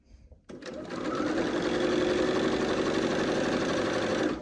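A sewing machine stitches pieces of a blue-and-white Cross In The Round quilt block right sides together, running as a steady, close mechanical whir after a brief quiet start.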